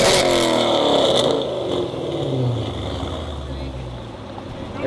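A Chrysler 300 with American Racing headers (2-inch primaries, 3-inch collector) and catless Hellcat mid-pipes, a loud raspy exhaust rev close by that falls back to a rumbling idle, with a voice speaking briefly over it.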